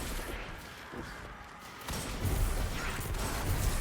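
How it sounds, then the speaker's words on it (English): Rapid chained explosions from a volatile-rounds Hunter build in the shooter game Destiny 2, a dense run of booms that swells louder partway through and rumbles on with bursts and crackle, no talking. "Just chaining explosions."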